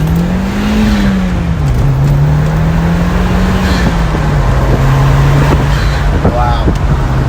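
A tuned 034Motorsport 2.0T car at about 250 horsepower, its engine a loud, steady droning hum heard close up from inside, with the pitch rising and easing slightly as it pulls.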